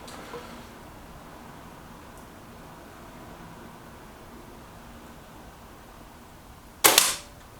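A Reximex Zone air rifle fires an FX pellet on a 23-metre range, one sharp, close crack near the end after several seconds of quiet background hiss.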